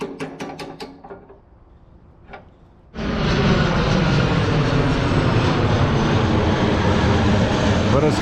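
Loud, steady aircraft engine roar near an airport sets in abruptly after a few seconds of quieter tapping and work noise, then holds at full strength to the end.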